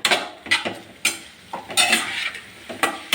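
A spoon scrapes and clatters against a pan as cooked breadfruit (kadachakka) is stirred for mezhukkupuratti, with irregular close clinks and scraping strokes over a faint sizzle.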